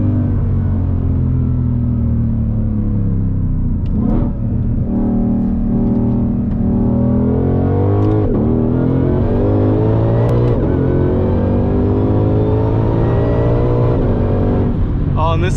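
Ford Shelby GT500 pulling hard in first gear, its engine roaring loud and close from inside the cabin with rising pitch through the run, while occupants talk over it.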